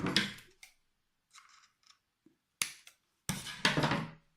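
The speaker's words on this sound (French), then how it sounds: "Avec un ciseau, je coupe." Scissors make a few sharp, separate snips, close and dry, with short silent gaps between them while cotton is being trimmed for a vaping atomizer build.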